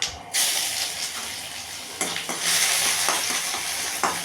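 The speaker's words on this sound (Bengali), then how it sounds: "শুকনো লঙ্কা ফোড়ন দিয়েছি, আর তারপর দেবো হচ্ছে জিরে ফোড়ন, তেজপাতা, আর দেবো আদা" Dry chilli, cumin, bay leaf and ginger hit hot oil for tempering with a close, bright crackling sizzle. Several sharp bursts flare as ingredients are added and stirred, and no one talks.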